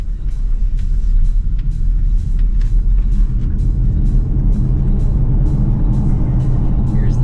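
A Polestar 2 electric car driving on the road, with a loud, steady low rumble of tyre and road noise throughout and faint higher ticks above it.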